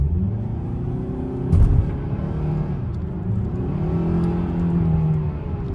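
A 2025 Kia K5 LXS sedan accelerates hard, heard from the cabin as a steady rising engine drone and road rumble with a brief bump, loud and continuous with no talk.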